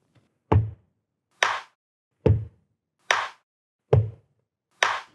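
A steady body-percussion beat alternates right-foot stomps as bass drum with left-knee slaps as snare, six evenly spaced hits in a slow, clear rhythm with no talking.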